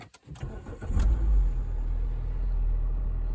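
A 2006 Renault Laguna's engine cranks briefly with a few clicks, catches with a low surge, then settles into a steady, close rumbling idle.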